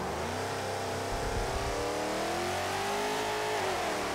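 Twin Mill Hot Wheels car in Forza Motorsport 7 accelerating hard, its engine note climbing steadily in a continuous loud rev over the race.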